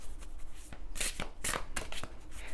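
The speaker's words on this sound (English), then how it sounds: "Let's do some shuffling." Tarot cards being shuffled in quick riffling bursts, crisp and close, with brief pauses between the flurries.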